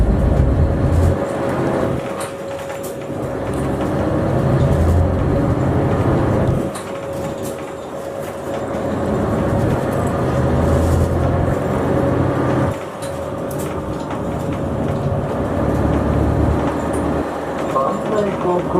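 A city bus running from Niigata port to Niigata Station pulls away from the stop, its engine droning and rumbling loudly as it rises and shifts. An onboard announcement voice can be heard over the engine.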